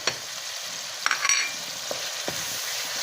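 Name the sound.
frying chicken with dry masala in a pan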